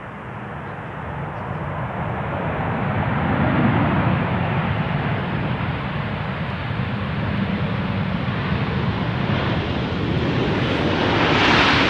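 An Airbus A330 airliner roars steadily on arrival at Amsterdam Schiphol runway 18R, a loud broad jet rumble that holds, then swells slightly as it passes, with wind buffeting on the microphone.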